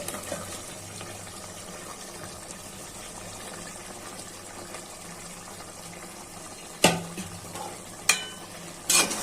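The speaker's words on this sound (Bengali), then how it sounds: "এখন মাছটা কষানো হয়েছে, টমেটো গুলা ছেড়ে দিচ্ছি।" Tomatoes go into a pan where a boal fish head has been frying down for a tangy tomato curry, giving a low sizzle and faint stirring, then a few sharp clatters of a utensil against the pan near the end.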